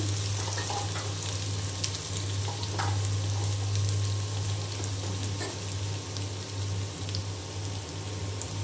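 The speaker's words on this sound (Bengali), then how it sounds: "তেল গরম হয়ে গিয়েছে আমি এই যে আলু ভাজি করব আমি আলু দিয়ে দিলাম" Potatoes fry in hot oil in a home kitchen, giving a steady, close, continuous sizzle over a low hum, with a few faint clinks of utensils and no voices.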